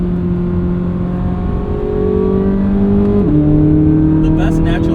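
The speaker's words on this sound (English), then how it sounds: "This engine is just special. The way the tone changes throughout the rev range is just so evocative, so addictive." A 2023 Chevrolet Corvette Z06 naturally aspirated engine revs loud and close, its steady tone climbing and then shifting as the revs change.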